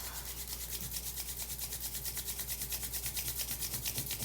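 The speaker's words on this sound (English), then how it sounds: "Start rubbing your hands a little bit faster to create some warmth." A pair of palms rubbed briskly together to build warmth, making a steady, close, rhythmic swishing friction that pulses quickly and evenly throughout, with no voices.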